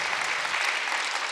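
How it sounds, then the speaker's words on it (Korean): A crowd claps steadily together, a dense wash of applause holding at an even level from start to finish. "박수 좀 치고 이제"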